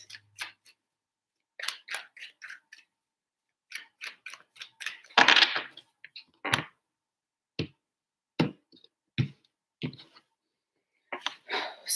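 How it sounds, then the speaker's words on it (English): Tarot cards being shuffled in a quiet room, a run of crisp snapping riffles and taps in short bursts with pauses between, close and fairly faint, with no talking. "3 shuffles for Aries."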